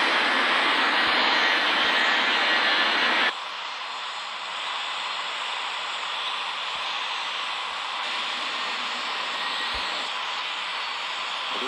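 A passenger jet in an air traffic control game roars loudly with engine noise on the runway for takeoff, then settles into a lower, steady drone that continues through to the end.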